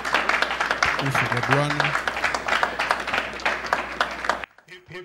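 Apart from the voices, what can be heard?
congregation clapping in church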